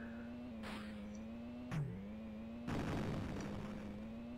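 A missile blast hitting a car in the Amiga racing game Super Cars II, a short burst cutting across a steady engine drone, followed by a louder, longer crackling explosion near the end.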